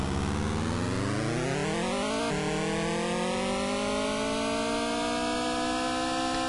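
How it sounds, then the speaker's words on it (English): A synthesized car engine from the Continental Circus racing video game whines upward in pitch, drops at a gear change, then climbs steadily again; a constant, buzzy electronic tone with no voices. "Decent engine sound."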